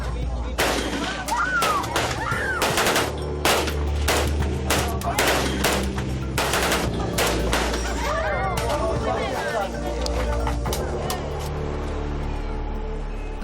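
Gunfire rings out at a People's Liberation Army firing range as a rapid series of loud, sharp shots in irregular bursts, with a voice heard over the shooting.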